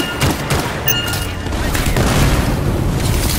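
A detonation in the Anthem video game, set in a foundry: a loud, dense explosive rumble with crackling debris, sustained throughout with no clear single impact.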